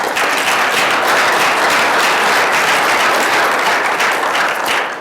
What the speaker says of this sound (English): A round of applause for Marty and Denise.